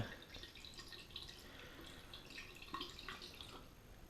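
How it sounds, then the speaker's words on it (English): Coolant draining from the cooling system of a Yamaha FZ1 Fazer motorcycle, with faint gurgling, trickling and small bubbling pops as air escapes, steady and quiet at close range. "It's full, but now it's draining away. You can hear it. That's the air releasing."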